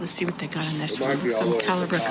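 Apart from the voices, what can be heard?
No everyday noises stand out.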